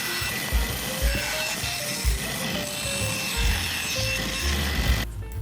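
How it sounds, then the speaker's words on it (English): A bandsaw cuts out sleigh sides from a cedar fence plank, played back heavily sped up into a dense, loud, gritty whirring rasp with rhythmic bumps, ending in an abrupt drop. "At the bandsaw to cut out the sides of the sleigh."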